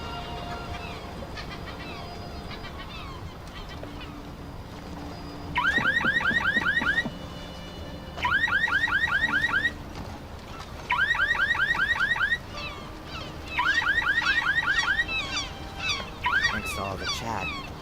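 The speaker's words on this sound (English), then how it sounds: "even the car alarm doesn't get her to come out" A car alarm in the PC game Black Mirror II: Reigning Evil sounds in four loud, repeating bursts of rapid warbling tones, each about a second and a half long, separated by short pauses over a low ambient background.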